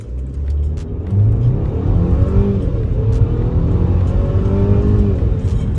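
A 2022 Mercedes-Benz GLC 300 4MATIC accelerates hard from a stop, its engine note rising through the revs in a loud, close in-cabin rumble with a gear change midway.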